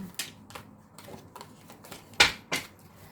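A deck of tarot cards being shuffled and cut, giving a run of light papery flicks and riffles in a quiet room, with two sharper snapping card strikes near the end.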